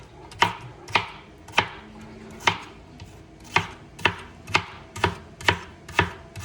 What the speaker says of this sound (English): All we've got left after this is our red onion to chop